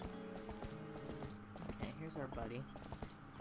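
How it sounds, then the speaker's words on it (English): A huge Clydesdale-like horse in the Zelda: Twilight Princess video game runs over tall grass, its hooves making a quiet, rhythmic clip-clop under people talking. "She's like running over the tall grass and it's her like super sharp hooves."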